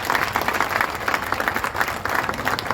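Loud, sustained applause from a crowd at a Hindu Mahapanchayat gathering, dense rhythmic clapping that holds steady throughout without talk over it.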